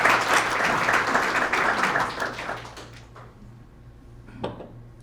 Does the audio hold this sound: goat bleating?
no